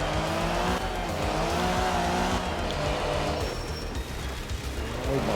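A rally car in Art of Rally drifts with its rear sliding onto grass, the engine roaring steadily while tires squeal and skid throughout, loud and continuous with no voice over it.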